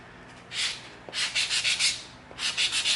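EVA foam for a Green Hornet gas gun prop is sanded by hand with 220 grit sandpaper, giving close, soft scratchy strokes in quick bursts, a short pass, then a run of about five, then three more.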